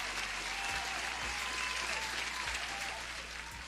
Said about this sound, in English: You deserve the applause as well.